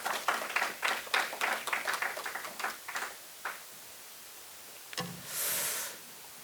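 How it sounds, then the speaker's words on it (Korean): A church congregation gives a short burst of applause that thins out after about three seconds, followed by quiet and then a couple of brief knocks and a hissing noise. "우리 격려의 박수 부탁드리겠습니다"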